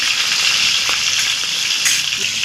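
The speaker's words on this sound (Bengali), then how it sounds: "মাছের মাথা ভাজা হয়ে গেছে" A fish head frying in hot oil gives a steady, close sizzle with a bubbling hiss that holds at an even level throughout, and no one speaks.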